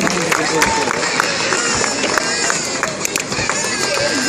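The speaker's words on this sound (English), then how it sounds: "Come on everybody, let the claps keep going on." Audience clapping at a live Indian community show, with a crowd of claps and chatter spread evenly across the clip, dense and steady while an announcer calls out names.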